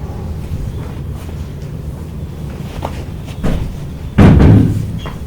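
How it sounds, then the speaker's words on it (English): During a devotional talk in a room, a door is pushed shut, ending in a single solid thud near the end after a softer knock, against a steady low hum. "Can you close the door?"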